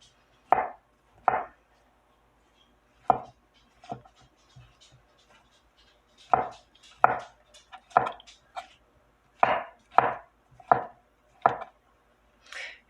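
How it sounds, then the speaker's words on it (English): A kitchen knife slices mushrooms into quarter-inch pieces on a cutting board, producing sharp, separate chopping taps in an irregular rhythm with short pauses between strokes, close and clear. "So I'm just gonna slice up my mushrooms."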